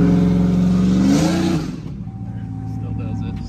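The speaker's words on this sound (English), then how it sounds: "Wide open throttle, 3000 RPM, shuts itself down" A boosted Gen 3 LS car engine holds a loud wide-open-throttle drone near 3000 RPM, then abruptly cuts out and falls to a much quieter idle-like hum with faint background noise.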